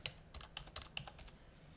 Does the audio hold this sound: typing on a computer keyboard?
yes